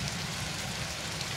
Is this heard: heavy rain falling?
yes